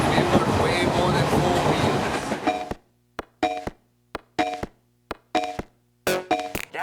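An express train rushes past on rails in a loud, dense roar for a couple of seconds, then breaks into a run of sharp, separate rhythmic clacks and thumps with brief silences between them.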